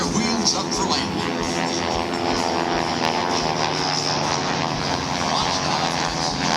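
Propeller planes of the Aeroshell Aerobatic Team flying aerobatics at an airshow in Vidalia, Georgia, their engines droning loud and steady throughout with no breaks.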